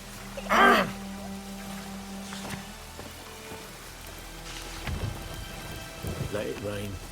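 Rain and thunder in the video game The Witcher 3: a soft patter of rainfall under low rolling thunder, with a few louder rumbling bursts and scattered nearby movement sounds.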